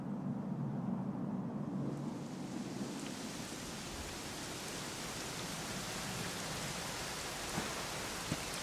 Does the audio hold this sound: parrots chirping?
no